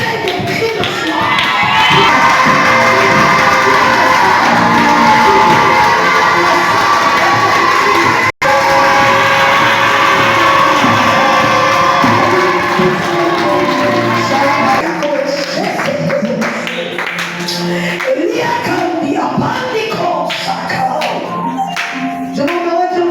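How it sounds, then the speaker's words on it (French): A church congregation bursts into loud shouts of joy and cheering, a dense sustained roar of many voices with some clapping, thinning into scattered cries and taps toward the end. "Est-ce que tu peux pousser des cris de joie?"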